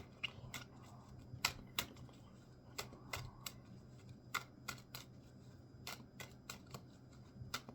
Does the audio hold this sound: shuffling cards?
yes